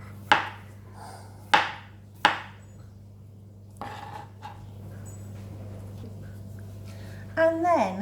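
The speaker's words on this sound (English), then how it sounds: "slice into fine little pieces of onion" A knife chops onion into fine pieces on a board: three sharp, close cuts spaced about a second apart, then a softer knock, over a steady low hum, with a brief voice-like sound at the end.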